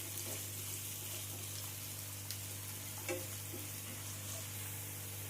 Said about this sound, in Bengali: আবারও আমি পেঁয়াজটাকে 3-4 মিনিটের মতো ভেজে নেব আদা রসুনের সাথে